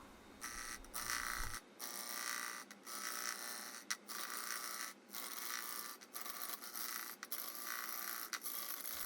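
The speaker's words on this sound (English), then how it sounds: "on these kind of square bowls, the faster you can turn and have the speed going, I find the cleaner cut you get." A woodturning lathe cuts a large square wooden bowl, giving bursts of rasping, whirring scraping broken by short regular gaps as the square corners pass the tool.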